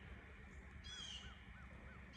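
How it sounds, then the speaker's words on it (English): A crow caws four or five times in the woods during a squirrel hunt, faint and distant over steady background noise. "Oh, that was a bird."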